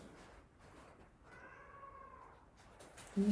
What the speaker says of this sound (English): I'm sorry if you hear my cat in the background.